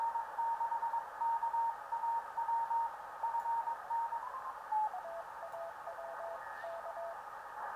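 An amateur radio station relayed through the FO-29 satellite, received on a Flex-1500 radio, comes through as a steady band of receiver hiss with an on-off Morse-like tone that keys in rhythm, drifting slightly in pitch partway through.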